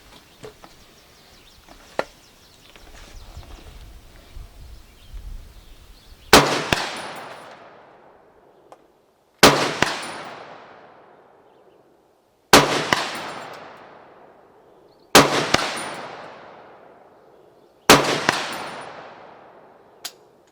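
A 30-06 Noreen BN36X3 AR-platform rifle fires five loud, sharp shots of Hornady ammunition, each a crack with a short ringing decay, spaced about three seconds apart after a stretch of quiet outdoor ambience.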